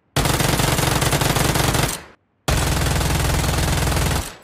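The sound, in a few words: UZI submachine gun firing in video game Peace Elite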